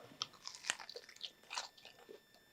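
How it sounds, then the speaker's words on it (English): Sauced chicken wings coated in tapioca starch crunch loudly with each bite, a few sharp crackling bites followed by close chewing, with no talking. "As you can hear, you still get that awesome crunch even after those wings have been sauced."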